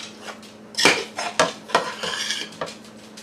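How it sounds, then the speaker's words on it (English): Ground beef mixture spooned into a casserole dish for an enchilada casserole, with several sharp metal-on-dish scrapes and clinks of the spoon in quick, close succession, no talking. "I'm going to add is half of my ground beef mixture. And I'm just going to start spooning that right in"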